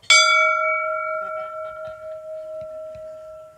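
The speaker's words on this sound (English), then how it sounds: "ring the bell." A single bell strike rings out sharply and then hums with a long, steady, slowly fading sustain, close and clear with faint background noise beneath.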